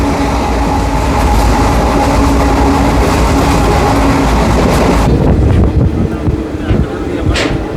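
Sindhanur Express diesel train running at over 110 km/h: a loud, steady rolling roar with wind buffeting that abruptly shifts to a duller, darker rumble partway through, with occasional clicks from the track.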